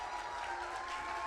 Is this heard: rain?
no